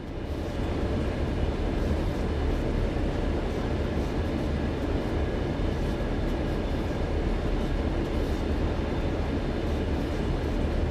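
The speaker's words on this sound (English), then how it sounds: "You can see from the bumpiness and the sounds that the back of the train is running into me." Train cars in the Train Sim World game running into the locomotive from behind, heard as a steady, loud rolling rumble of rail noise with no distinct separate knocks and no voices.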